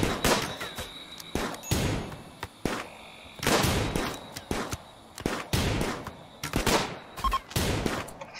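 Repeated volleys of gunfire in the RimWorld colony-management game, sharp bursts landing roughly every second or so for several seconds, loud and close with brief pauses between clusters of shots.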